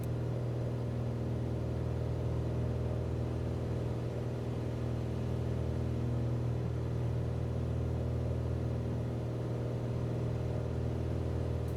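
A Piper Arrow III single-engine propeller plane climbing in Microsoft Flight Simulator, its engine droning as a steady, even hum with a constant low rumble and no talking.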